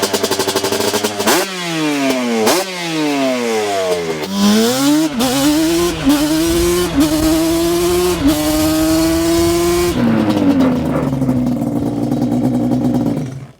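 2004 Yamaha Banshee LE ATV two-stroke engine revving loudly and close up through repeated throttle blips, then holding a rising high-pitched wail before dropping back to idle.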